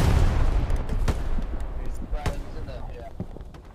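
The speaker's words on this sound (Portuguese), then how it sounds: "um tiro de um cara do lado do nosso OP lá." Gunfire in the World War II shooter Hell Let Loose during a line battle scrimmage: a couple of sharp, distant shots crack out over a dense, rumbling battlefield bed, with someone talking over it.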